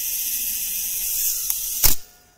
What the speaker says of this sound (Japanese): 2秒に合わせて、この状態でシャッターを切ってみると、